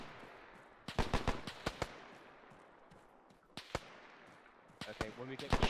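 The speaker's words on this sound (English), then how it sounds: "The machine gun is still up." Automatic machine-gun fire in Arma 3, a pre-WW2 Palestine mission: several sharp bursts of shots with gaps between them, loud and close, over a steady background hiss of wind and ambience.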